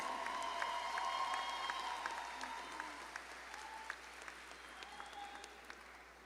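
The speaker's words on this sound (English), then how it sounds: "Please give her a round of applause." Distant, faint applause from a high school graduation ceremony audience: scattered hand claps patter steadily across a large space with no talking.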